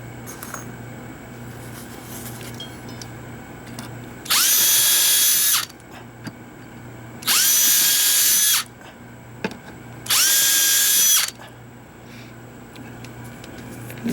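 A power drill with a self-centering bit whirs in three separate bursts of a second or so each, driving screws into a crawl space door, with quiet pauses between them and faint background noise.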